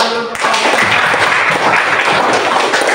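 A classroom group claps together after a presentation, a dense, loud burst of hand claps starting abruptly and continuing steadily throughout.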